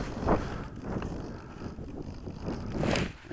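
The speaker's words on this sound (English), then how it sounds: "It's pretty windy." Strong gusts of wind, around 12 to 15 mph, buffet the microphone outdoors at an RC glider flying field, a continuous low rumbling roar that swells and eases over a few seconds.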